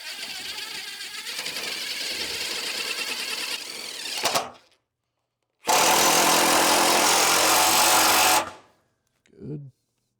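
A power tool drives lag screws into a heavy-duty workbench made from an auction table, whirring loudly in two long sustained runs with a pause between, then a short final burst.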